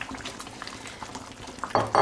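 Beef fillets and pears boiling in a casserole pot make soft, irregular bubbling and popping, with a couple of louder sputters near the end.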